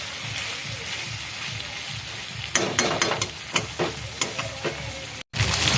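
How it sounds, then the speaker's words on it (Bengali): Mutton sizzles and fries in a pan with spices, a steady hiss broken by sharp scraping and clattering bursts as it is stirred, close and fairly loud, with a brief gap near the end. "এইভাবেই মশলা দিয়ে আমি ভালো করে ঢাকা দিয়ে দিয়ে কষাতে থাকবো, এবং কষাতে কষাতেই মাংসটা সিদ্ধ হয়ে যাবে।"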